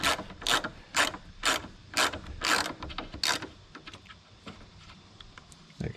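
A hand ratchet clicks in quick bursts while loosening a 10mm plastic nut on a 2013 Mk6 Golf R tail light, close and crisp, with several sharp ratcheting strokes fading into lighter fiddling.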